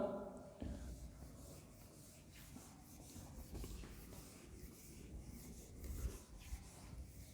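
Rubbing across a board during a physics demonstration of magnetic field patterns, a soft, continuous scraping rasp lasting several seconds with uneven strokes, fairly quiet and close.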